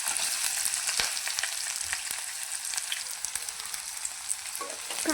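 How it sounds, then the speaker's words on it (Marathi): Onions frying in a couple of spoonfuls of oil, a steady close sizzle and crackle with occasional sharp pops throughout, no talking. "तर चला सगळ्यात पहिले आपण कांदा फ्राय करून घेऊया। तर 2 चमचे तेल ओतलेलं आहे।"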